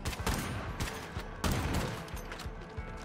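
A big gun firing in the zombie survival game State of Decay: heavy, rapid, booming shots in a dense cluster, loud and near, with a sharp burst near the middle.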